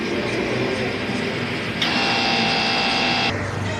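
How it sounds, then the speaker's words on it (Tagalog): A DTF printer runs a nozzle check, its print head carriage whirring and buzzing steadily at close range, with a higher-pitched mechanical tone rising partway through and then fading, and no voices. "Ito na po yung tamang pag-nozzle check."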